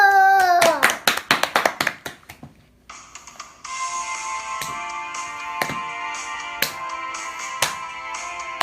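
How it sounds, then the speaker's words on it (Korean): Hands clap in a quick series of sharp, loud claps at a Christmas worship service. The clapping gives way to a bright chiming, ringtone-like melody punctuated by occasional sharp hits. "박수!"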